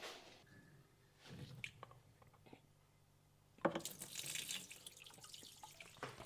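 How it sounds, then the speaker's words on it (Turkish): A hose siphons water from a jug into a freshwater aquarium. After faint handling noises it turns into a close, sudden rush of splashing, gurgling flow that keeps going to the end. "hortumla bidondan su çekip akvaryuma vermeyi başarabilecek miyim?"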